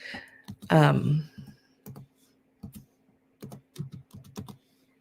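Keys on a non-touchscreen computer keyboard tapped in short, uneven bursts of crisp clicks with pauses between, close and fairly quiet, with a brief voiced sound near the start.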